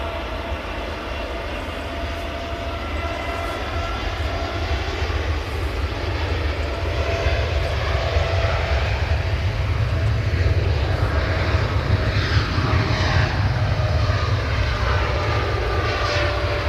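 A Boeing 787-8 Dreamliner jet at Manchester Airport rumbles with a deep, loud engine roar that swells gradually and peaks in the later seconds, engine tones wavering above it, no speech.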